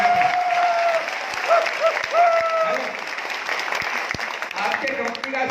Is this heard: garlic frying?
no